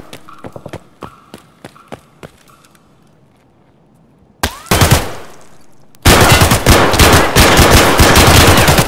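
Gunfire in the shooter game Escape from Tarkov: a few sharp single shots spaced apart, then a loud burst and a sustained dense stream of rapid automatic fire at close range.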